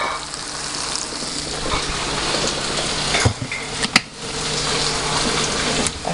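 Corned beef and vegetables with a splash of ketchup sizzle steadily in a pan. The frying is loud and close, with a few sharp clinks of a utensil against the pan.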